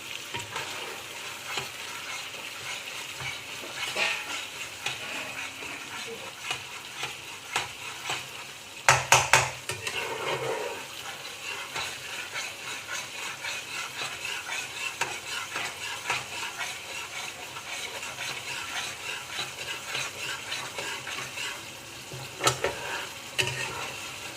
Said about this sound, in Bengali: মশলাটা যে আমি কষছি এখন, এতে হলুদ দেবেন না।